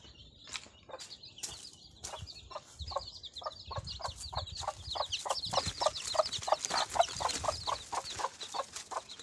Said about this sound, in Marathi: हे कोंबडी इकडं आहे, दुसरी कोंबडी बघा इकडं आहे